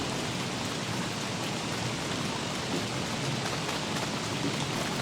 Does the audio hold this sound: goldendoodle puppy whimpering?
no